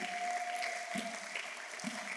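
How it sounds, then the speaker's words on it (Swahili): Continuous faint applause, a dense wash of clapping from a crowd, heard at low level with a steady tone running underneath. "Piga makofi kwa Yesu"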